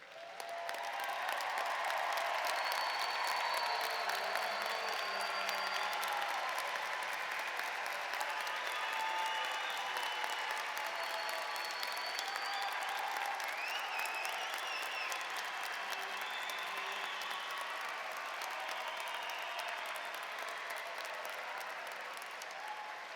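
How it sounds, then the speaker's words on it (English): Sustained applause from a large graduation audience at a fall 2021 university commencement, steady and dense throughout with a few faint whistles and cheers rising above the clapping. "give our class of 2021 and all who travel this journey alongside them a big round of applause"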